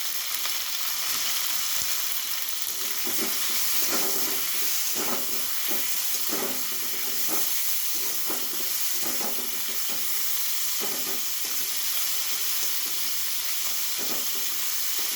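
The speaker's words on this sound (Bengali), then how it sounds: "একটু লবণ আর হলুদ দিয়ে ভেজে নেব" Cauliflower with salt and turmeric sizzles loudly and continuously in hot oil, with irregular scraping and stirring clatter throughout.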